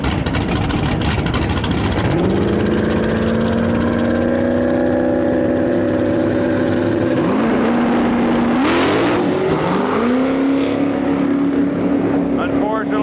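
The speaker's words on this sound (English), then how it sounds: "Big block, 565, cubic inch, 73 Camaro, pulling up the line right here." A green 1973 Camaro with a 565 cubic inch big block engine launching at a drag strip, a loud roaring engine climbing sharply in pitch, then wavering and surging as the tires spin, with a voice speaking over it.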